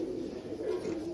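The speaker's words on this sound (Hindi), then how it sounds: "ये एक नंबर लाल परी कबूतर है।" A Lal Pari pigeon coos close by, a low, steady throaty rolling call that rises and falls gently in pitch over about a second.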